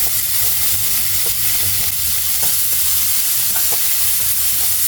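Carrots frying in oil in a pan give a steady, loud, continuous sizzle and hiss that lasts the whole time, close up, with no talking.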